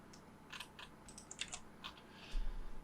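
Quiet computer keyboard typing of short commands for AutoCAD, scattered light key taps in small bursts followed by a firmer press of the Enter key, close and alone with no talk.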